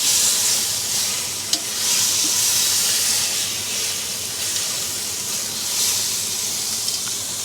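Food frying in butter in a pan, a steady close sizzle and hiss with faint stirring clicks, continuous with no talk.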